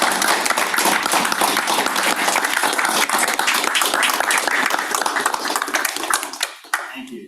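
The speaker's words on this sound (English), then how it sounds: "I'm going to clap for them." Board members clap at a transportation policy board meeting, a lively burst of many hands applauding close by with some light taps, tapering off toward the end as a voice briefly speaks.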